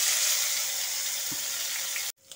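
Small shrimp frying in hot white oil, a steady bright hiss and crackle that holds level, then cuts off abruptly near the end.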